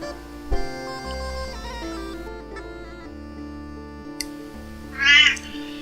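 A cranky domestic cat meows once near the end, a short loud complaint rising over steady background music from a strategy game.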